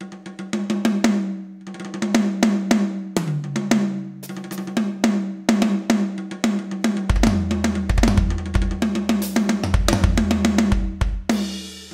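Roland TD-50 electronic kit with a snare sound resembling a muted tom, played in a busy groove of rapid dull, tonal hits alongside kick drum and cymbals, steady and close with no voices.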